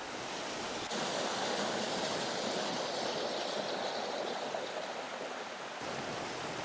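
A Galtee mountain stream rushes over rocks in a steady, broadband wash of water, loud and close, with no pause or change throughout.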